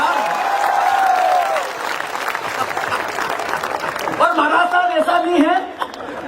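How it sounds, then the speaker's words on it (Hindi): An audience at a Hindi comedy poetry gathering (hasya kavi sammelan) claps in a dense, sustained ovation. Scattered laughter rises in the middle, and a voice comes in over the tail of the applause near the end. "महाराज साहब के लिए जोरदार तालियां बजे यार"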